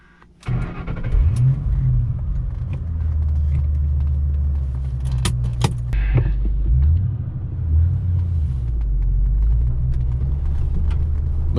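A 2007 Stage 3 Roush Mustang (415 hp) engine cranks and catches after a brief hush, then settles into a steady, close low rumble with a few revs and small mechanical clicks.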